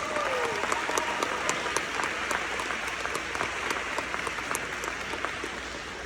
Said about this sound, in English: So let's give JaCameron a round of applause.